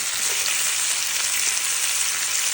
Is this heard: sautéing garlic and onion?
yes